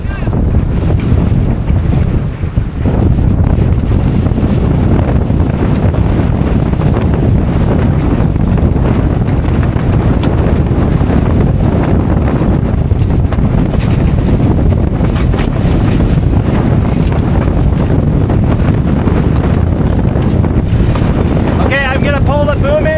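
Strong, steady wind roars across the microphone on a sailboat at sea off Hawaii, running under a jib alone, with water rushing along the hull in a continuous loud wash and no talk.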